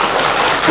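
Applause at a wedding celebration, a dense burst of many hands clapping at once, loud and close, filling the brief moment without talking.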